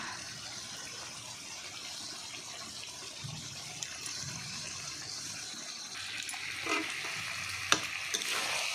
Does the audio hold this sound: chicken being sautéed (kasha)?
yes